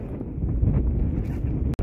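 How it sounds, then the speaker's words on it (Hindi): Strong wind roars across the microphone at the north portal of the Atal Tunnel in snowy mountain weather, a loud continuous buffeting rumble with no speech, broken by a brief dropout near the end. "बहुत तेज़ हवा चल रही है, हाथ हमारे पूरे जम गए हैं, और बहुत तेज़ हवा चल रही है भाई"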